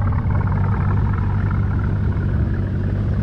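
A 2000 Chevrolet Corvette C5 with its LS1 V8 and free-flow exhaust idles with a steady, deep, choppy low rumble, fairly close and continuous with no talking.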